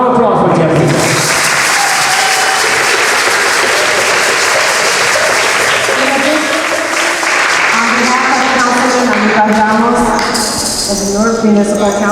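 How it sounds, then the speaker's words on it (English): An audience at a Taíno community gathering gives Jeffrey sustained, loud applause that fills the room for the whole stretch, with voices and murmured talk mixed in among the clapping. "Round of applause for Jeffrey."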